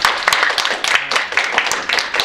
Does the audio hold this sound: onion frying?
no